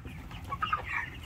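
Poultry chickens on a small farm, around 29 days old, cluck in short bursts, a few close calls over a low background murmur.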